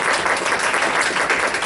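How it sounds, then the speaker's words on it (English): An audience at a spring orientation event gives a dense burst of applause, many hands clapping together at close to medium range, loud and continuous with no break. "Let's give a big round of applause."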